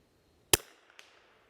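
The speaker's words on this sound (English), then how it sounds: "I'm going to shoot this far left one." A single sharp rifle shot cracks out at a target while testing a scope, followed by a brief faint echo and quiet tail.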